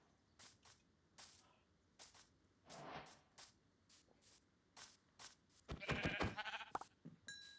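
Sheep in the video game Minecraft bleat in a few short faint calls among soft footstep shuffles, then a louder cluster of bleats near the end, quiet overall with no talking.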